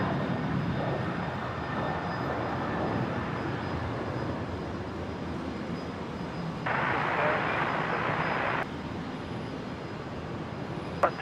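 A Qantas jet airliner takes off from Brisbane airport bound for Melbourne, producing a continuous, distant broadband engine roar that holds steady across the whole stretch with no voices.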